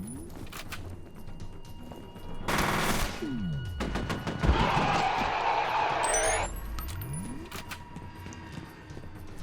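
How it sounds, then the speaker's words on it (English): Bursts of automatic gunfire in the shooter game F.E.A.R. Perseus Mandate, separated by metallic mechanical sweeps, with a dense sustained volley in the middle and scattered single shots around it. "What are you shooting at, sir?"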